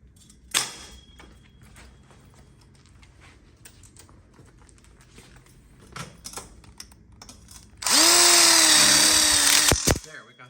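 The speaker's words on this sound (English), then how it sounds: "And we'll lock it in with a screw." A power drill drives a screw into a metal tube frame of a DIY outdoor kitchen module, a loud steady whirring burst of about two seconds near the end, after quiet handling noises and a sharp knock.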